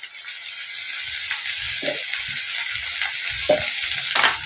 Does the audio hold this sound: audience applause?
no